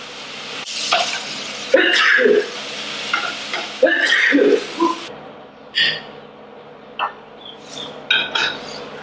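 Vegetables stir-fried in a pan in a campervan kitchen, steady sizzling with intermittent spatula scrapes and clinks, close and moderately loud, softer toss sounds toward the end, no speech.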